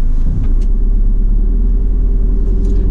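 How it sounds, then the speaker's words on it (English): A 2014 Citroen Relay L3H2 panel van idles after start-up, with a steady, loud, low diesel engine rumble that holds even throughout, heard close with no talk. "But first I need to be getting the engine started up."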